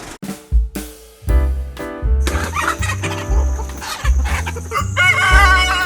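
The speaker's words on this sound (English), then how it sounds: "Here are our two new roosters." Two roosters cluck and crow loudly up close, with repeated squawks and a low thumping underneath.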